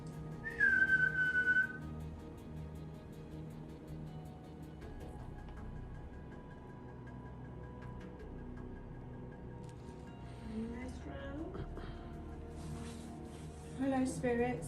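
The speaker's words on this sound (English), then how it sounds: "Could you make a whistling sound like this, please?" A short, high whistled note comes early, followed by long quiet hum, then faint voices and a brief whistle near the end, inside Beaumanor Hall, a former WW2 radio station.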